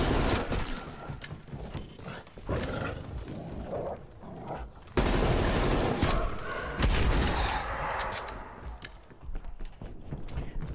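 Assault rifle fire in Call of Duty Cold War Zombies, dense rapid bursts and loud impacts filling the stretch with a chaotic game mix and no clear talk.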